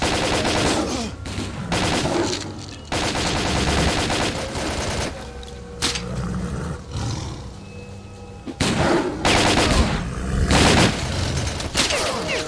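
Heavy, continuous gunfire rattles through a STALKER: Call of Pripyat firefight, with rapid bursts and booming shots near and loud almost without pause.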